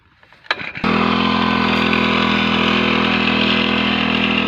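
Petrol-engine knapsack sprayer pulled into life after a few brief rattling attempts, then running loud and steady at a constant high idle, close to the microphone with no talking.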